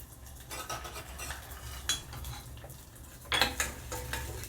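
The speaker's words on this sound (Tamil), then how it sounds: "அடுத்து இந்த பாசிப்பருப்பு இது இதில் போட்டு வறுத்தரலாம்." Moong dal being lightly roasted and stirred in ghee in a pan for sweet pongal, with a spoon scraping and clinking against the metal in irregular bursts over a soft background hiss, no talking.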